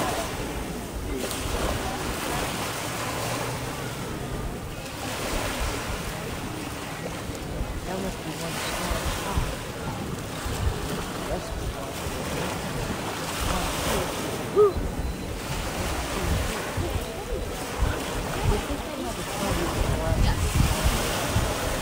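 Ocean surf washing onto a Cape Cod beach, a steady broadband roar with rolling swells and wind buffeting the microphone, continuous and fairly loud throughout.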